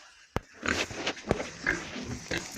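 Pigs grunting and snuffling close by in a village on a frosty evening, with several short sharp knocks and rustling around them.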